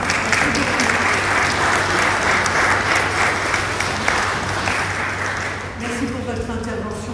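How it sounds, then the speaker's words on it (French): A church congregation applauding a trumpeter who played the European anthem at a Sunday Protestant service, loud continuous clapping that thins out toward the end as a voice begins speaking. "Nous voudrions vous applaudir pour vous remercier de ce film."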